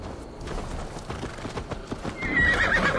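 A horse in a video game trots up with rhythmic clip-clop hoofbeats, then gives a loud whinny near the end, close and clear.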